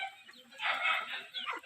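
Chickens cluck in one short, faint burst of fowl calls lasting under two seconds, heard alone at a moderate distance.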